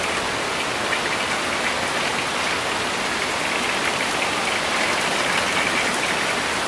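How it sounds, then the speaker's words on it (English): Steady, heavy rain falls outside, a dense, even hiss of drops on surfaces that stays loud and continuous throughout with no voices. "Look at that rain."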